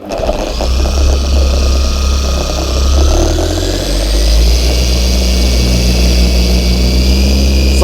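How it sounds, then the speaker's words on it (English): A Zentool 21E2 polishing machine running at speed 4 polishes a car panel, a loud, steady close-up whir with a constant motor drone and slight pitch shifts, without talk. "So I'm polishing here on speed 4."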